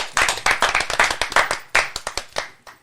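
Live audience clapping at a community event honoring women mayors in Mississippi County, Arkansas: a short run of sharp, near, roughly rhythmic claps that thins out toward the end.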